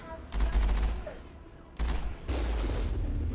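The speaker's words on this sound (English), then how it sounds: "Cannons." Rapid bursts of cannon fire come from the Mako vehicle in the Mass Effect video game, loud clustered volleys separated by short pauses, with a voice speaking faintly underneath.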